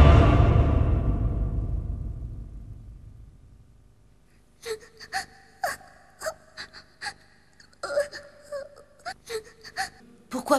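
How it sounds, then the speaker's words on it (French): A child cries and wails in an animated Tekken episode, with halting sobs and whimpers in short irregular bursts after a fading rumble. "Pourquoi pleures-tu?"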